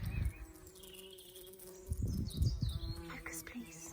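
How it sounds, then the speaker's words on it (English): A soft, wavering insect buzz of bees drifting in and out under low background rumble and faint voices, fairly quiet and close. "Look at the bees."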